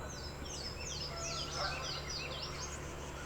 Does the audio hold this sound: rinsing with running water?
no